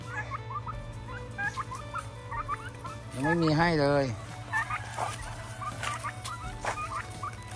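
Turkeys on a Thai farm gobble in a loud, rippling burst near the middle, with scattered clucks and chatter from other fowl around it and a person speaking briefly.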